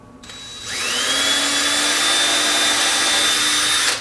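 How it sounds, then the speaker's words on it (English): A power drill bores pilot holes in wood for small stainless steel screws while a filet board is built. It gives one steady, close, high whine lasting about three seconds, heard alone. "I'm going to come underneath here and drill some more pilot holes."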